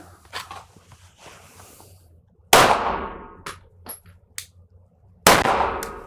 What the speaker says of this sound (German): 1 Schuss Feuer frei